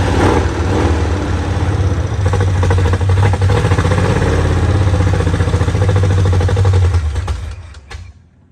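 A 1968 Ford Mustang engine fitted with Duraspark ignition runs loud and close with a steady rumbling idle, then cuts off near the end.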